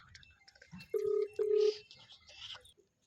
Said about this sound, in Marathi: फोन लावलाय